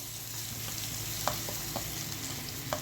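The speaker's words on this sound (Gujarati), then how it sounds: "હવે આપણે વઘારમાં થોડી ડુંગળી એડ કરશું." Chopped onion hits hot oil tempered with curry leaves and asafoetida for leftover-rice vaghareli bhaat, giving a steady close sizzle of frying broken by a few sharp clicks from stirring.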